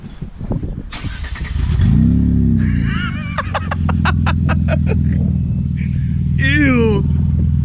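A car engine with new aftermarket downpipes revs hard and climbs several times in quick bursts, loud and close, with raspy exhaust and brief voices around it.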